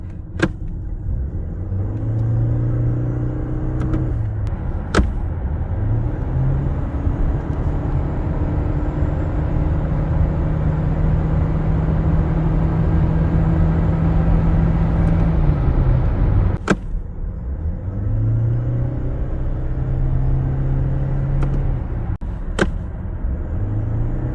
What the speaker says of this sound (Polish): jest głośno, bo jak słyszeliście, auto trzyma ciągle te same obroty